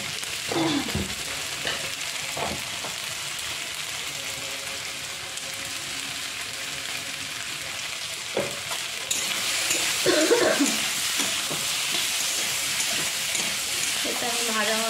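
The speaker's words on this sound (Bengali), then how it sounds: "আলু পটল ভাজা ভাজা হচ্ছে" Potato and pointed gourd frying in a pan with ginger, cumin, green chilli, salt and turmeric, a steady close sizzle with intermittent stirring scrapes, growing louder in the latter half.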